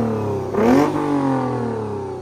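A Lexus RC350 with a new Cardin axle-back exhaust revs once hard, rising sharply to a loud peak before settling back into a steady, rumbling idle, close and alone with no talking.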